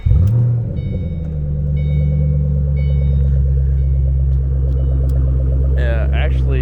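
A 2009 Shelby GT500 idles with a deep, steady rumble close by, low engine tone holding constant after a brief initial blip, with a faint rise near the end.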